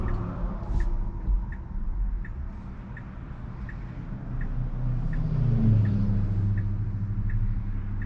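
A car passes on a 45 mph road, heard from inside a waiting car at an unprotected left turn. A low rumble swells and fades against the cabin hum while the turn signal ticks steadily throughout.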